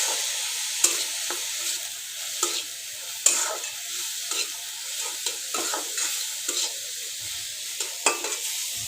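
Turmeric, chilli, panch phoron and salt sizzle in hot oil in a pan while a spoon scrapes and stirs them in repeated sharp strokes across the pan. The sound is close and clear, with no talking.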